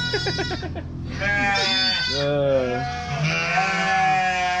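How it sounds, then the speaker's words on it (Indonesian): A small herd of goats, including a horned male and young kids, bleats loudly and close up, with several wavering calls overlapping one another in quick succession. "beliau punya kambing nih"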